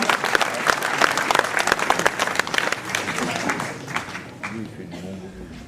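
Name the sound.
audience applause for a medal recipient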